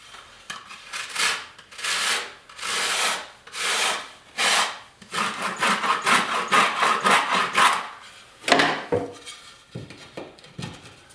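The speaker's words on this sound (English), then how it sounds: "I'm going to show you another way. This is a drywall file." Drywall file scraping across a patched drywall hole, making a series of rhythmic rasping strokes, close and fairly loud, with short pauses between passes.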